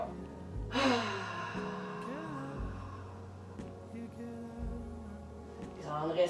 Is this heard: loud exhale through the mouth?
yes